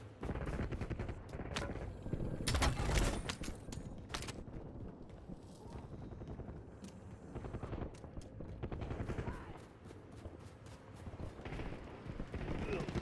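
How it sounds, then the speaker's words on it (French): Rapid gunfire in the video game Warzone, bursts of automatic shots crackling near and loud, with a heavy blast early on and repeated volleys continuing over game sounds throughout. "On me tire dessus."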